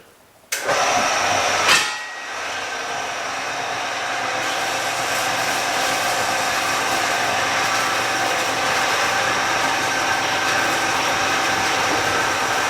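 A power saw slicing through a 3-inch square lead block, starting abruptly after a brief quiet moment and then running as a steady, loud mechanical whine and grind that continues unbroken to the end.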